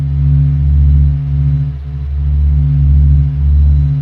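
Sonified signal from the Sun in space, heard as a deep, steady humming drone with layered low tones that swell and dip in slow pulses, loud and continuous with no voices.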